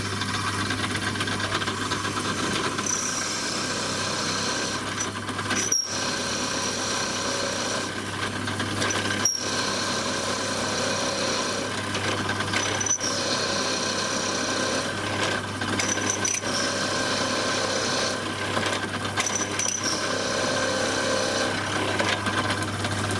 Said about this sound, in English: Notice when I'm drilling this, I'm taking it nice and slowly